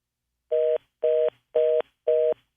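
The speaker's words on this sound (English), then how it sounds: "The phone just died." A phone line after a call drops, four evenly spaced beeping tones about half a second apart, loud and clean with silence between them.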